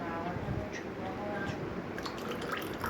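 Water is poured into whipped yogurt to make lassi, giving a continuous liquid trickle and splash close by, while a person talks over it.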